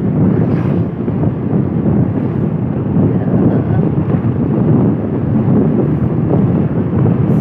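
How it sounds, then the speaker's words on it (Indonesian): Strong wind roars steadily against the microphone on the coastal road at Pangandaran Beach, Indonesia, a dense continuous rumble with no letup. "Anginnya kencang"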